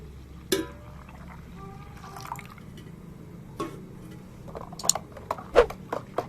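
Water poured into a gram flour and yogurt kadhi batter, heard as sparse drips and short splashy pours in a quiet kitchen, a few distinct liquid bursts near the end.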